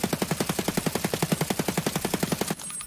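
An AK-101 rifle in the video game Escape from Tarkov fires a sustained full-auto burst of about two dozen rapid, evenly spaced shots, loud and close, stopping abruptly near the end with no talk.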